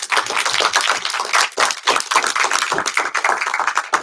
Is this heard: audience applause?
yes